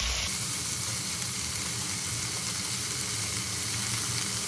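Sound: vegetables sautéing in oil in a pan, for veg pulao

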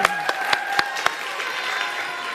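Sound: applause for a performer

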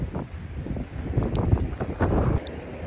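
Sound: wind blowing on a cliffside

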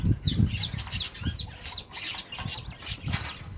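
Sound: pair of Golden Manchurian birds moving in their enclosure

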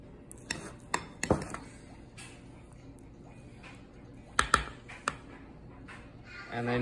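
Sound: stirring sourdough starter in a bowl

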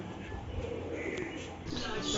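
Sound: pigeons cooing

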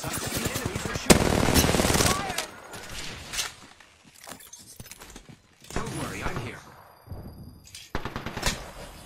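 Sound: enemy gunfire in the video game Apex Legends

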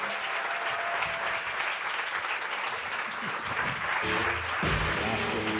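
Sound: audience applause for speaker Salvatore Brizzi

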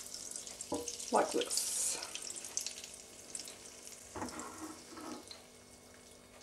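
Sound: German pancake batter frying in melted butter in a pan

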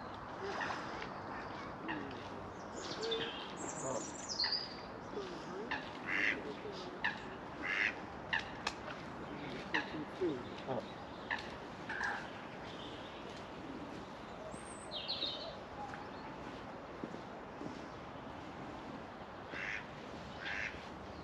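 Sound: coots and waterfowl calling on a lake

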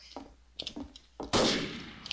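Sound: gunshots in video game Garry's Mod Trouble in Terrorist Town

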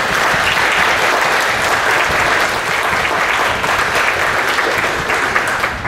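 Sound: congregation applauding confirmation candidates

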